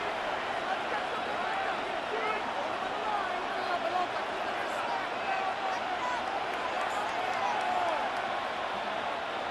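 Stadium crowd roar in the American football video game Madden NFL 26, a steady dense wash of cheering and babble filling the whole stretch, with a commentator's voice talking over it.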